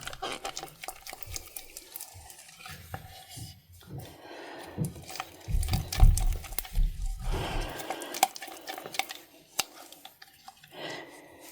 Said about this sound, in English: So I'm just going to give this a mix through.